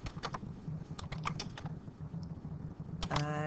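Typing on a computer keyboard with quick bursts of key clicks, loud and close, in an otherwise quiet room.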